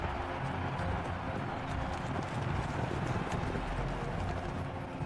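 Horses' hooves pounding in a steady clip-clop as chariots race around a crowded racetrack in the ancient Roman empire, loud and continuous beneath a dense rumble of motion and wind.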